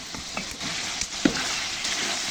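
Meat, about one and a half kilograms, frying in a large kazan over a campfire outdoors, a steady broad sizzle with occasional crackles and a sharp pop, no talking.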